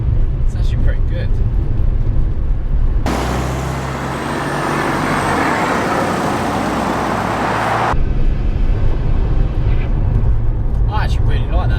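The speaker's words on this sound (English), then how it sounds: "The fluttering noise is cool." A Skoda Octavia vRS diesel drives along with a steady engine and road roar that swells into a loud, dense burst in the middle. People talk inside the car.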